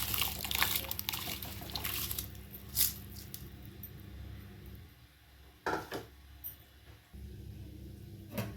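Soaked rice tipped into boiling liquid in a pot for coconut rice and stirred, giving soft wet squishing and sloshing, faint and close, with a few scraping stir strokes.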